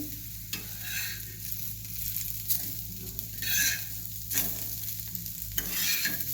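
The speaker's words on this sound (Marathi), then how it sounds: "बघा छान असं भाजायला लागलेत मासं" Fish pieces shallow-frying in oil in a pan, a soft continuous sizzle with a few louder bursts of crackle as the pieces are turned.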